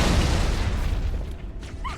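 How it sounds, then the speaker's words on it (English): Grenade blast in the video game Halo 2: a heavy, close boom that rumbles and fades over about two seconds, with no voices. "You blow several people up instead of just the one."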